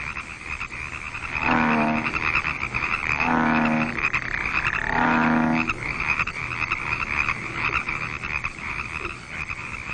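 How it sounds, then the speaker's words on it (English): Toads at a pond in spring mating season give three loud trilling calls in a row, each lasting about a second, over a steady chorus of other calls in the background. "And then the whole pond seems to burst into song. Toad competes with toad to attract the females"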